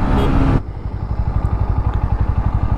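A 2024 Bajaj Pulsar NS 125 motorcycle riding at about 100 km/h, with slight vibration, opens with a loud rush of wind and then settles into a rapid, even throb of the engine.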